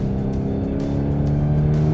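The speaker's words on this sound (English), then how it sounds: "The EA888 motor pulls really strongly from low revs, but also has tremendous mid-range punch" A 2024 Volkswagen T-Roc R small SUV with its EA888 engine accelerating, a steady close droning engine note pulling under load, continuous and fairly loud with no voices.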